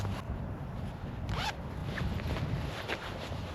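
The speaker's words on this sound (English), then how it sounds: "Little pocket that zips up right here." Zipper on a small cold-weather jacket pocket pulled shut in a couple of quick rasping strokes, close and clear against a steady background hiss, with no talking.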